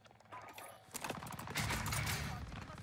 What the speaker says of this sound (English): we're using the nail gun. Little nail gun action.